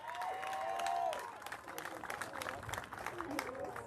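Tournament crowd cheering and clapping at an intermediate central region opening ceremony, a broad wash of applause and scattered shouts filling the field, loud at first then thinning into uneven claps and whoops.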